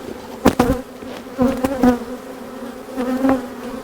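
Honeybees from a transferred swarm buzz around hive frames, a steady close hum with sharper swells as individual bees fly past the microphone.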